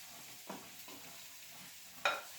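Onions sweating in olive oil for a mild chicken curry give a faint, steady low sizzle, broken by a couple of soft stirring knocks near the pan.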